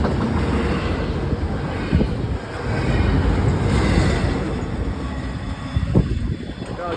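A train rolls past a River Road crossing, a steady broadband rumble and rush that stays loud throughout, with wind buffeting the microphone outdoors.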